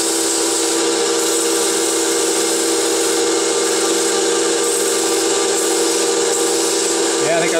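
A 3D printed bearing adapter is worked with an abrasive, producing a continuous, loud rubbing and rasping scrape close by, with a brief higher squeal near the end.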